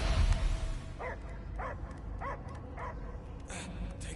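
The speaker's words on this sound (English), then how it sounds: "I hear only barking." Dog barking in Marvel's Guardians of the Galaxy video game, a run of four or five evenly spaced barks at moderate level over a low rumbling game backdrop.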